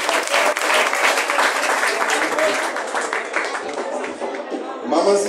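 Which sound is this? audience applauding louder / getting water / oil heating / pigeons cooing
audience applauding louder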